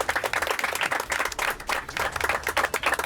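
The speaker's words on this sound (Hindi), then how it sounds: "तालियां होनी चाहिए जी इनके लिए।" A small group of people claps at a cricket-related interview, with quick, uneven hand claps pattering for about three seconds at moderate loudness.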